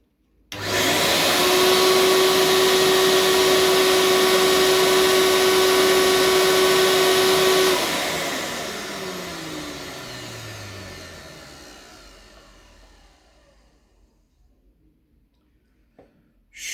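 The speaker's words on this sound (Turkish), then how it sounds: "Şuradaki ışık yeşil yanıyorsa zaten motor çalışıyor demektir." An electric motor switches on and runs with a loud, steady whine and rushing hum, then spins down gradually, fading over several seconds until nearly silent.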